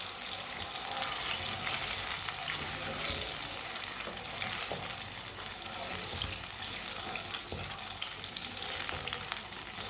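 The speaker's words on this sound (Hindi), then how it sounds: "चीनी को अच्छी तरह मिक्स कर लेंगे।" Sugar is stirred into hot ghee in a pan while making makhandi halwa, a steady close sizzle with continuous scraping and stirring that runs unbroken and fairly loud throughout.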